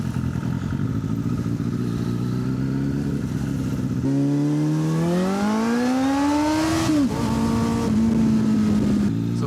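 Road motorcycle riding: a steady engine drone rises in pitch as the bike accelerates, drops sharply as it shifts gear, then holds a steady cruising note, with continuous wind rush, close and loud throughout.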